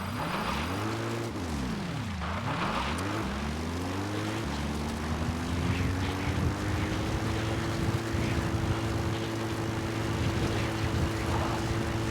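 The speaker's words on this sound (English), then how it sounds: "A support helicopter Roger. requested." A support helicopter arriving in the video game Metal Gear Solid V: The Phantom Pain, its rotor and engine drone steady and loud throughout, pitch sweeping then settling into a sustained hum.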